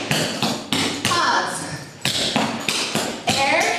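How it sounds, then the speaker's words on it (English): Tap shoes strike a hard floor in a rhythmic sequence of hops, scuffs, rocks and heel drops, with about nine loud, sharp, close taps and a voice calling over them. "From the jump, hop, scuff, up, hop, heel."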